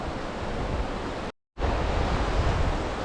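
The Kunhar River rushes past near Naran in the Kaghan Valley, a loud, steady broadband roar of flowing water that cuts out for a brief moment, then resumes.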